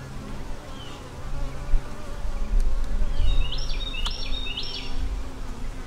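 Honey bees buzz steadily and close around a queen as she is released from a cage, the dense hum lasting throughout with a few faint high chirps on top.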